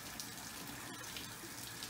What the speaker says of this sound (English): Just emptying out fresh water. That was from the ram pump.